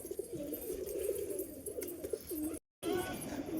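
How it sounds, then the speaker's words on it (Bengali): Pigeons in a coop give soft, repeated cooing calls. The calls are low and fairly quiet, and a brief dropout interrupts them near the end. "তোমাদের একটি কবুতর দেখাচ্ছে"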